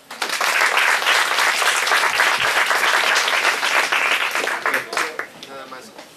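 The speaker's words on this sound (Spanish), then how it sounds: "Un aplauso para todos ustedes." An audience at a school welcome event gives loud, sustained applause for about five seconds, with a voice heard over it as it tapers off.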